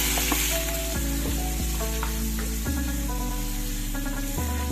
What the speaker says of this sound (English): You put the peeled prawns in and fry it together.